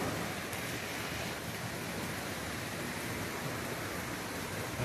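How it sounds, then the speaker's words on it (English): Heavy summer rain pours down in Ottawa without thunder, a dense, steady, hissing roar of water that stays constant and loud throughout with no other sounds. "No lightning, just heavy rain."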